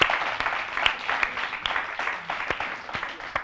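An audience applauds the Djibouti radio-television crew at a ceremony, scattered claps of moderate loudness with distinct individual sharp hand strikes standing out over a thinner crowd wash.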